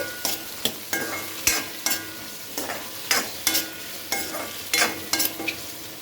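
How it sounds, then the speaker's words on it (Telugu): Bottle gourd frying in oil in a kadai gives a steady sizzle, punctuated by a regular run of scraping strokes from a spatula stirring, close by. "నెక్స్ట్ ఆల్రెడీ కడాయిలో ఆయిల్ ఉంది కదా, దాంట్లోకి సొరకాయను అయితే యాడ్ చేసేసుకోవాలి."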